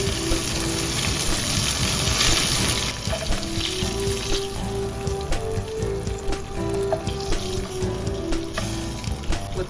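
Fish collars from a surf-caught corbina frying in a pan, a loud continuous sizzle with crackling pops and some sharp clinks of utensils, close up and with no talking.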